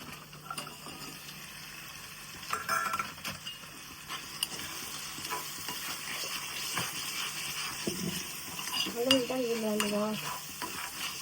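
Garlic cloves frying in a pan, a faint steady sizzle with occasional clinks and scrapes of stirring, quiet and close, with no one talking.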